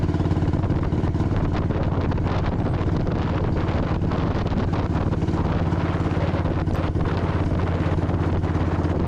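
A Royal Enfield motorcycle engine drones steadily and loudly as it accelerates uphill, with heavy wind buffeting the microphone throughout; no voices.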